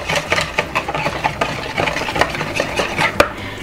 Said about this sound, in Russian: Я пока что буду замешивать венчиком, пока все очень жиденькое, да?